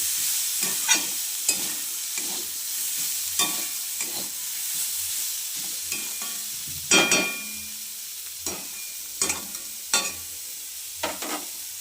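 Sliced bitter gourd frying with chopped onion in a pan, a continuous sizzle broken by repeated scraping strokes of a spatula at an irregular rhythm, close and fairly loud with no voices.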